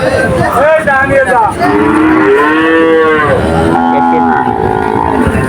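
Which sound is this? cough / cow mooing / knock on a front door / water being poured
cow mooing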